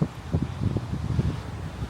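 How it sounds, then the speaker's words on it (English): Wind blowing along an Amsterdam street, a steady low broadband rush with gusty swells and buffeting throughout, close and moderately loud, no talk. "It's all nice and windy."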